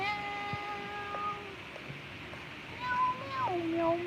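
A person imitates a cat, voicing a few drawn-out, wavering meows over steady outdoor background noise. The last calls are the loudest and clearest.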